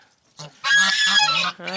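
Geese on a village farmstead honk loudly and close by, a short call followed by a long harsh honk and another starting at the end.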